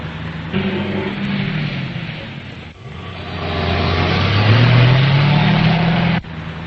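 Engine of a car following behind in a 1941 serial, a steady motor drone that rises in pitch and intensity midway, with no talk over it.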